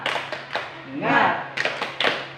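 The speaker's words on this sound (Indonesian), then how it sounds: "Tepuk semangat. Semangat." A small group in a school group counseling session does a rhythmic spirit clap, several sharp clap bursts with a voiced chant rising in the middle, close and lively in a plain room.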